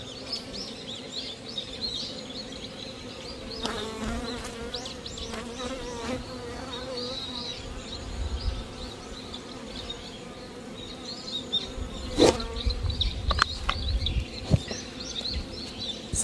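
Honeybees buzz continuously around a hive affected by mites, a dense, close hum with individual insects passing near, and a few faint chirps and knocks over it.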